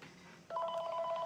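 A telephone ring from Star Wars: Knights of the Old Republic on Xbox cuts in suddenly over faint game background, then sustains as a loud, even electronic warble with a two-tone pitch.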